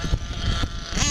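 The nitro engine of a Kyosho Inferno Neo ST RC car idles slightly high with a steady buzzing drone, close and fairly loud, with slight pulsing variation, from a carburetor fault.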